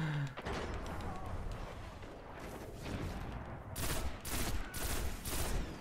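Guns fire in a Crucible match in the video game Destiny, loud bursts of rapid shots with heavier blasts in the later part of the clip, over busy game noise.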